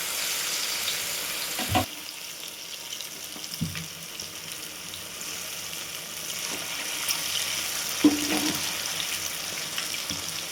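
Batter-coated stuffed green chillies, fasting-style mirchi bhaji, fry in hot oil with a continuous close sizzle, punctuated by a few soft clicks and utensil taps.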